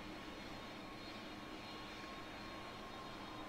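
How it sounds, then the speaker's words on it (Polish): Steady, broadband engine roar of an airplane landing in a Roblox pilot-training flight simulator game, a continuous loud hiss-like drone with no variation and no voices. "Wylądował samolot jakiś inny."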